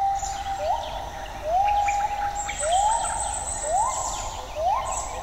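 Several birds call around a spring-fed forest meadow, one repeating a rising whistled note about every second over a steady bed of chirps and trills, fairly close and clear, with no voices.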